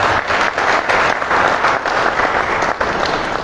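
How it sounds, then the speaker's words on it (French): Audience at a PDCI-RDA press conference applauding minister Yapo Kalis, a dense, steady burst of many hands clapping, loud and close, with no voices over it. "le ministre Yapo Kalis, que je vous demande d'applaudir"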